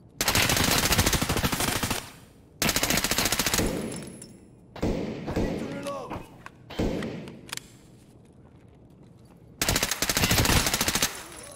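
SIG MPX submachine gun fired in Escape From Tarkov, heard as long sustained full-auto bursts broken by pauses, with a couple of shorter bursts mid-sequence, loud and close with no talking over it.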